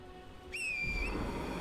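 A single clear, sustained whistle tone rings out in the game Elden Ring, summoning the spectral steed Torrent, followed by a soft rushing swell of magical ambience.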